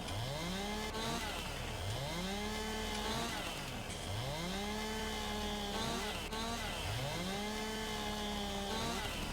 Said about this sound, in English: I think it's a McCulloch chainsaw